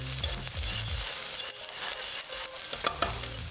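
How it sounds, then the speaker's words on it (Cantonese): Onions, red onion and green onion stir-fry in a hot wok with a steady, bright sizzle, broken by a few low knocks and scrapes of the spatula at the start. "We'll stir fry them for 10 to 20 seconds until they're fragrant."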